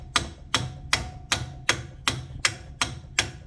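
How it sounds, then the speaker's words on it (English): Sharp metallic hammer blows land in a steady rhythm, about nine strikes in a few seconds, each one a crisp clank close up, knocking a BMW E46 control arm bushing loose. "now I'm just hitting it with a hammer"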